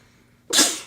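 A sudden close burst from an early-morning sneeze, loud and explosive and then tapering off, after a quiet moment with no speech.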